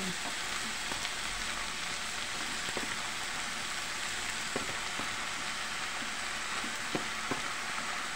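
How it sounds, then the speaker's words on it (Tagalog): Bottle gourd (upo) frying in a pan, a steady soft sizzle with occasional light clicks of stirring, close and even throughout. "Lalagyan na po natin ang upo."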